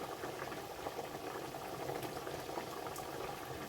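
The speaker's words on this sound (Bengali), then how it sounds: "ডালটা আমাদের ফুটে গেছে" Bitter gourd dal (lentils) boils in a cooking pot, giving a steady, close bubbling and simmering that runs without a break and with no voices.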